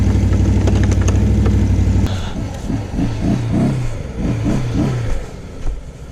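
A Can-Am XMR off-road vehicle with a broken belt revs its engine loudly, a steady roar for two seconds and then a series of rising and falling throttle bursts, close by with no talk.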